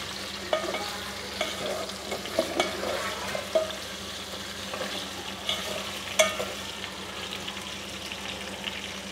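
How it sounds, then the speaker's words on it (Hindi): Potato pieces lightly frying in oil, a soft continuous sizzle with scattered sharper pops and stirring clinks throughout, fairly quiet and with no talking. "आलू को हमने थोड़ा सा हल्का सा फ्राई करेंगे ऑयल में"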